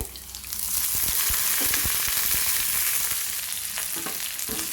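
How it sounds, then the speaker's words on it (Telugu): Garlic, cumin seeds, dried red chillies and curry leaves sizzle loudly in hot oil for a tempering, a steady close-up crackle with scattered clinks and scrapes of stirring throughout. "వెల్లుల్లి కూడా జీలకర్ర ఎండుమిరపకాయ కరివేపాకు వేసుకోవాలండి"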